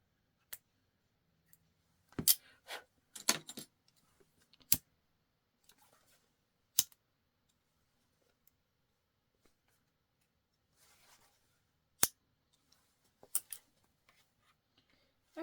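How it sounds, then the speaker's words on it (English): Small scissors snip a loose jump stitch on a sewn towel topper, giving a few sharp, close clicks and snips spread out across a quiet background. "I'm just gonna cut that little jump stitch I made."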